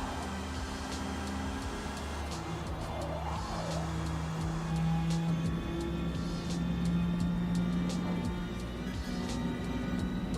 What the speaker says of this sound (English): It just revs so high. It just eats through its whole RPM range.